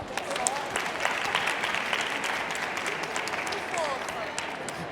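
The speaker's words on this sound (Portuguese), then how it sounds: "Palmas para ela." Audience applause at a talk on Black women and networking, a dense, moderate crowd clapping evenly for the whole stretch, with faint voices mixed in.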